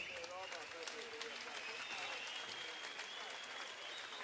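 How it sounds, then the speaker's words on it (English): Crowd applause fills an arena after a Muay Thai fight night bout in Turin, steady dense clapping at a distance while an announcer's amplified voice carries over it. "Ladies and gentlemen, please, a massive round of applause for both fighters."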